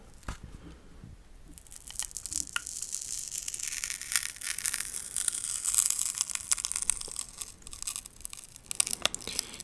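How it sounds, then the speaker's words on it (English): A Colgate cardboard box is opened up close, with crisp tearing and crinkling of card and packaging that grows busier after the first seconds, quiet and without speech. "I'm gonna go ahead and open this Colgate box we have"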